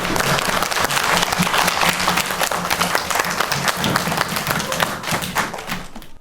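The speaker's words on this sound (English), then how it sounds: "so give yourselves a big clap" A class of children in a primary school music lesson claps together in a dense, steady burst that stays loud and even for several seconds before thinning out at the end.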